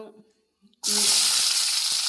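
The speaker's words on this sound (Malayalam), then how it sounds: "കടുകൊക്കെ പൊട്ടുന്നു" Mustard seeds hit hot coconut oil after a near-silent moment, and a loud, sudden burst of crackling and popping sizzle follows and continues close by.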